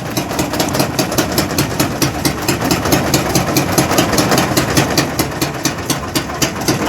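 A boat's engine runs steadily on a river while swimmers cross alongside, giving a loud continuous droning hum with a fast regular pulse throughout.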